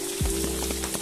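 Rain coming down over a backyard hen enclosure that floods in wet weather, a brief steady patter with a low hum and a few soft thuds underneath.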